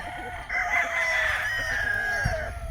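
A white pit gamefowl rooster crows once, a loud drawn-out cock-a-doodle-doo close by, with faint background noise and a brief thump near the end.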